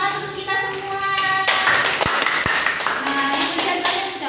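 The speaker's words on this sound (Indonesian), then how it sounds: "Tepuk tangan untuk kita semua." Children in an elementary science class clap their hands together, a burst of dense clapping near the microphone, joined by children's voices after a teacher speaks.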